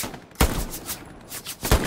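Gunfire in the World War II shooter Hell Let Loose at night near Foy, two sharp loud shots about a second apart, separated by fainter distant reports and rumble.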